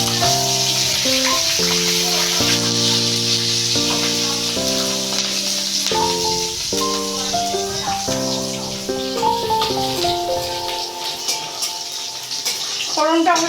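Whole cumin seeds and two green chillies sizzle steadily in hot oil, a continuous frying hiss heard under music.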